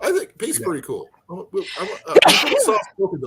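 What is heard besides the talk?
sneeze heard over a phone call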